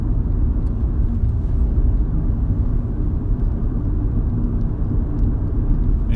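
Car driving in rush hour traffic in southwestern Virginia near the Kentucky and Tennessee border, heard from inside as a loud, constant low road and engine rumble with no speech.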